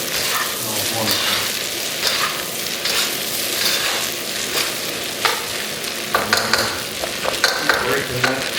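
Leftover rice is broken up and stirred in a hot pan for breakfast fried rice, a steady close sizzle and fry with scraping and tapping strokes of the spatula that grow more frequent toward the end.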